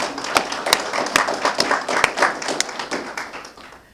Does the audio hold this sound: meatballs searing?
no